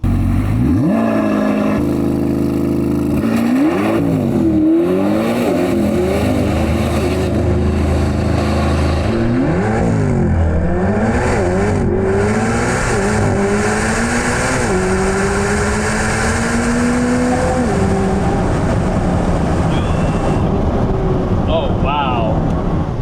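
A 1064-horsepower Chevrolet C8 Corvette ZR1 launches hard on a no-prep drag strip, its engine roaring loud and close as it climbs through rapid gear changes, with heavy wind buffeting throughout.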